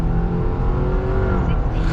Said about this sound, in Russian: С ручника сейчас стартует